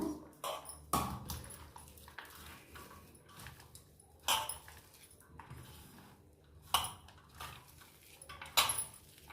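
Onion bonda batter mixed by hand in a bowl: soft, irregular clinks and scrapes, a few sharper knocks standing out, close by and fairly quiet with no voices.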